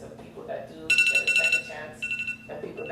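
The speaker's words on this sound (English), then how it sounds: "So that is my alarm." A phone alarm rings in repeated bright electronic bursts during a classroom presentation, with people talking underneath.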